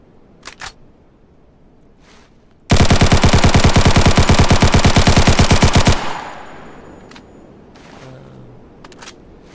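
Automatic gunfire from a suppressed weapon in the video game TOWN: a single rapid burst of about three seconds, loud and tightly rhythmic, then a fading tail and quiet background.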